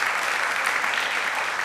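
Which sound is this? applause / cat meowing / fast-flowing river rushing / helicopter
applause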